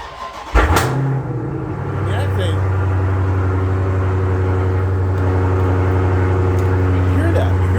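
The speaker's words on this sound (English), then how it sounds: "it's got a hell of an exhaust note on it" A car's loud exhaust note as the engine fires up abruptly, then settles into a deep, steady, throbbing idle that runs on unbroken. Someone speaks briefly near the start.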